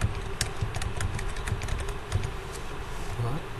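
Keys are pressed in a steady run on a graphing calculator keypad during a statistics calculation, giving soft close clicks over faint room noise.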